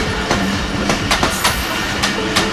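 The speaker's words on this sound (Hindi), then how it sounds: "तो ये है 39 अप जाफर एक्सप्रेस जो कि निकली है क्वेटा से और अब लाहौर से होती हुई पेशावर की जानिब रवाना हो गई।" The Jaffar Express, a Pakistan Railways passenger train, passing close by with loud steady wheel rumble and repeated clickety-clack beats as its cars roll over rail joints.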